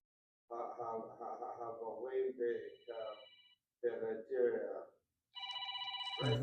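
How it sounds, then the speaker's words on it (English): A telephone rings in a classroom near the end, giving a steady, buzzing electronic trill after a stretch of someone speaking, and a voice briefly overlaps the ringing. "You hear that phone ringing?"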